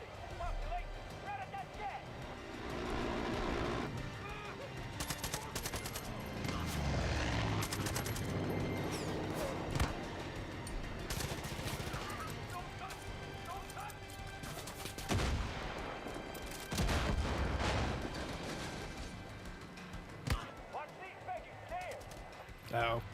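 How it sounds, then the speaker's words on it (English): Gunfire in the Far Cry video game, sharp shots cracking through a busy battle mix of explosions and engine noise while a player talks over most of it. "Snipers. That's what's hitting me so hard."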